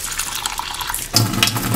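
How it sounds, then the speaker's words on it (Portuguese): Kitchen tap switched on partway through, water suddenly gushing steadily and close, a continuous broadband splash that stays even until the end. "Então eu boto aqui direto na torneira."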